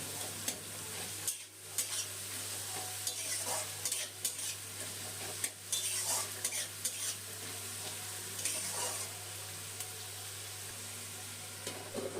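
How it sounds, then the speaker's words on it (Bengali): Chopped onions frying with a little salt in a pan, a continuous soft sizzle broken by repeated spatula stirs and scrapes against the pan, close and steady. "নুনটা দিয়ে পেঁয়াজের সাথে মিশিয়ে নিয়ে পেঁয়াজটা ভেজে নেব"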